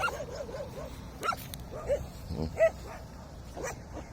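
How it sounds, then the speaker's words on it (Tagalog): A few dogs bark and yip in short, scattered bursts at a moderate distance, with faint background noise between the barks. "Tahol sila ng tahol."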